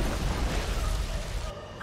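An aircraft shot down and exploding in Ace Combat 7, a heavy rumbling blast with a deep low roar that holds for over a second before tapering, loud and close.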